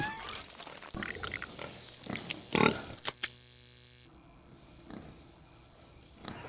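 Cartoon pig oinking from Peppa Pig, a few short snorting grunts amid a busy, layered soundtrack that shifts partway through, moderately loud.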